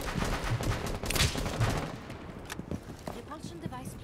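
Gunfire in the video game Kanal rattles in a short, loud burst of shots early on, then gives way to scattered quieter cracks and background game noise while a voice talks.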